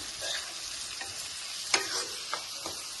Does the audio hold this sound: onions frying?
yes